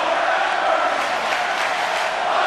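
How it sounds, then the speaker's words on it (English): A Kansas City wrestling crowd chants, a dense, loud roar of many voices that holds steady and continuous throughout. "You hear the chants of this Kansas City crowd."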